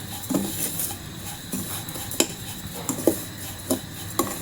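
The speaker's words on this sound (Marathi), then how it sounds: "आपलं खोबरं सुद्धा छान असं परतवून झालेलं आहे" Grated coconut stirred and roasted in a pan, giving soft scraping under a faint low sizzle, with scattered light clinks of the spoon against the pan at irregular intervals.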